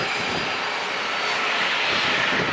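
An airliner takes off at San Diego International Airport, a continuous broad engine roar that holds steady and swells slightly toward the end, loud and without talk.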